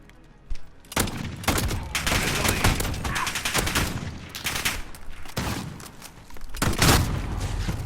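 Automatic AA-12 shotgun fire in Call of Duty Modern Warfare: loud, rapid blasts in bursts that run through most of the span, then a short pause before a final heavy burst.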